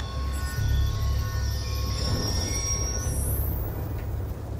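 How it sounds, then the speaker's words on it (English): A train passes in Call of Duty: Black Ops 2, its wheels squealing in long high metallic whines and its cars rumbling steadily, with the pitch sliding upward near the end. "Ain't getting anything else with that train in the way."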